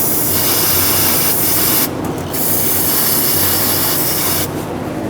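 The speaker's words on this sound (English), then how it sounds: "I'm going to spray some brake parts cleaner where it connects" A can of brake parts cleaner hisses in steady, loud bursts as it is sprayed onto the fuel line connection of a 1999-2007 Ford F-350 7.3L Powerstroke, briefly easing off before spraying again.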